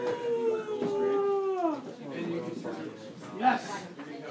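An old dog howls in long, wavering, falling notes for about two seconds, then gives shorter whimpering cries, with people talking faintly nearby.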